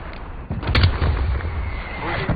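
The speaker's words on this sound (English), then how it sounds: "Artillery inbound." Artillery fire in Call of Duty Black Ops Cold War, a hardcore Domination match on an Uzbekistan map, with a sharp blast near the start followed by rumbling low booms and gunfire over background game noise.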